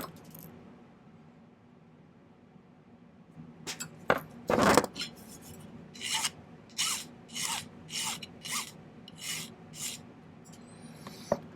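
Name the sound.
cutting off a piece of flattened 10 gauge silver wire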